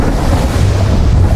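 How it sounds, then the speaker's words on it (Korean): Storm wind and heavy sea buffet a sailing yacht out on open water, a steady loud roar of gusting wind and crashing waves with no clear thunderclap. "짙은 먹구름이 몰려오고 시야를 가리는 폭풍우가 요트를 덮쳐버립니다."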